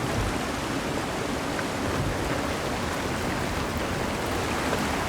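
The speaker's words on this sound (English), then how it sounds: "This guy tried to use a waterfall." Waterfall in the game Avowed, a dense unbroken broadband rush of falling water at a constant level, fairly loud and near, with no speech over it.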